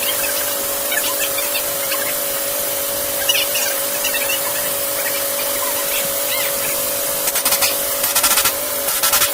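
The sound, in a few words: air compressor running on a truck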